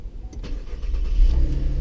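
A 2015 Chevrolet Camaro LT RS engine starts up, a short crank followed by a low rumble catching and building in loudness, heard close up over under two seconds with no one speaking.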